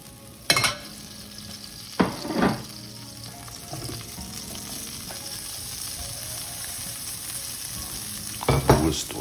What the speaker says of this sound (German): Dann werden die Tomaten angebraten, leicht salzen.